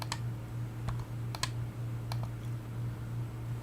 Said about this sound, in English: I'm good at typing, apparently.